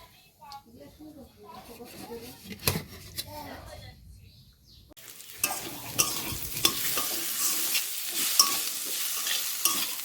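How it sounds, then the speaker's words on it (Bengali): Chilli paneer is stir-fried in a pan, with steady scraping, stirring and sizzling that grows louder in the second half while someone talks over it. "আমি এখন বসিয়ে দেব চিলি পনিরটা"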